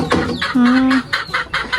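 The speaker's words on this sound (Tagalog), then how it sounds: "Talagang maingay po yung manok" A noisy hen clucks in repeated bursts nearby, with one long sustained squawk in the middle, restless calls that fit a bird wanting to lay eggs.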